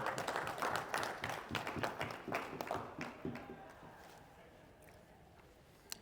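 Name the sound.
audience applause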